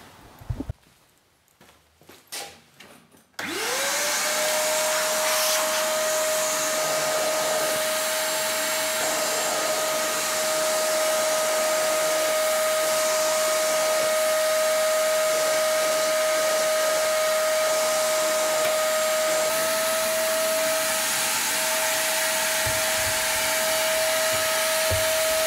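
A Ryobi vacuum used as a dust extractor starts after a few brief knocks and then runs with a loud, steady whine at constant pitch to the end.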